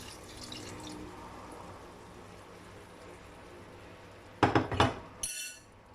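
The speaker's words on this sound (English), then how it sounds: "We add in a little bit of water." Water is added to marinated beef cooking in hot oil in a pot, heard as a steady low sizzle and then a few clattering metal knocks and a brief splash close by near the end.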